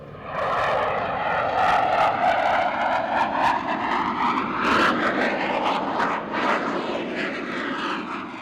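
A loud, steady F-15 Eagle fighter jet engine roar with shifting whine and rumble, continuous throughout as the jet passes nearby at low speed during an aerial demonstration.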